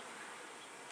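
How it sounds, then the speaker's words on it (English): Honey bees buzz around a honey frame lifted from a horizontal hive, a faint, steady hum from many insects with no voices. "The bees are gentle."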